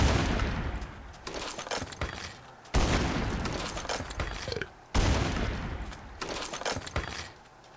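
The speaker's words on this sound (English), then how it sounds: "I hate zombies that shoot back" Zombie enemies firing guns in a Towncraft video game, with dense bursts of gunfire cutting in and out in three loud, sustained volleys.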